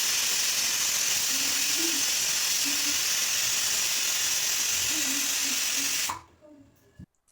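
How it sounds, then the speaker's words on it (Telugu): A whistle pressure cooker on the stove cooking egg biryani gives off a loud, continuous hiss of escaping steam that cuts off abruptly near the end, leaving a short quiet tail. "ఇప్పుడు మనం విజిల్ కుక్కర్‌కి మూత పెట్టి ఒక 2 విజిల్స్ వరకు ఉంచుకోవాలి"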